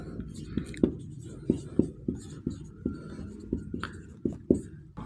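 Quick scratchy strokes of writing out a Class 10 maths answer during a lesson, arriving as a run of short, evenly spaced taps and scrapes beneath steady close talking.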